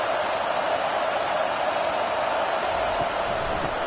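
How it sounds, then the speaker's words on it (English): Stadium crowd roaring steadily in an EA Sports College Football 25 game between Oklahoma State and Oklahoma, a dense continuous wash of cheering noise at even loudness with no break, heard alone without talk. "Here comes 2nd down, and this crowd is turning it up a notch."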